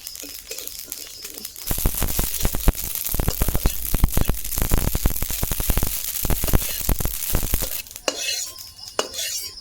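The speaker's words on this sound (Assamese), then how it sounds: "এতিয়া মই মছলাখিনি ভাজি ল'ম" Spices (nigella, coriander, fennel, cumin) crackle and pop in a hot pan, a dense, rapid sizzle that starts suddenly, runs for several seconds, then fades away.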